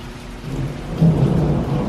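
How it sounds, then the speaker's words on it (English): Heavy rain and rolling thunder during a storm outside a balcony at Animal Kingdom Lodge, a steady close downpour with a deep rumble swelling louder partway through. "It is storming and raining."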